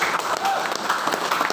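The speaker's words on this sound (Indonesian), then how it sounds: "Pak Yusuf, Pak Supriyadi, tepuk tangan buat beliau." A seminar audience applauding, steady clapping from the crowd over the whole short stretch.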